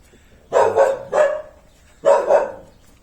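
Three sharp dog barks nearby, two close together then one after a short pause, with quiet in between.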